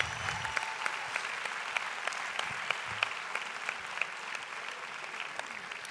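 An audience gives a brass band a long round of applause at a live evening show in Tenerife, many hands clapping in a continuous, even crackle at moderate distance, with faint crowd noise underneath.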